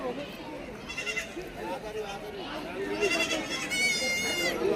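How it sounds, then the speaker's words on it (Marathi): Goats for sale at a Saturday livestock market in Shirur, Pune district, bleat under nearby talking, with a clear drawn-out bleat near the end. "वेलेल्या गामन शेळ्या आहेत"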